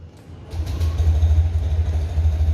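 A motorcycle engine starts right after its fuel pump has been primed and settles into a steady, loud, low idle that runs on alone.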